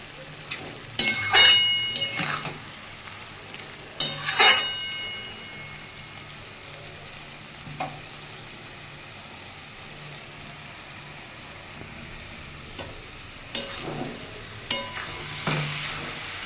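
Bengali-style vegetarian cabbage curry cooks over a raised gas flame as the water dries off, with a soft steady simmer broken by several sharp bursts of stirring and scraping in the pan.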